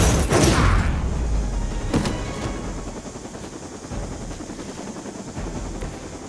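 Hydra helicopter in the video game Marvel's Midnight Suns, a loud burst of impact and rotor noise at the start that settles into a steady mechanical drone, with a few faint hits later.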